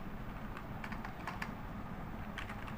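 Soft, quick clicks of typing on a computer keyboard in short bursts, quiet and close, over a faint steady room hum.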